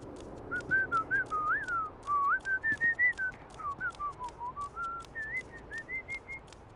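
A guard in the video game Starfield whistles a wandering tune, a clear run of short melodic notes rising and falling over a quiet background.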